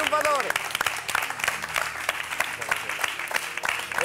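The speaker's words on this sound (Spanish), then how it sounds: "¡Arriba ese aplauso para un triunfador!" Audience applause at a cabaret show, a steady wash of clapping with sharp individual claps standing out, running loud throughout while a host's voice and music carry over it near the start.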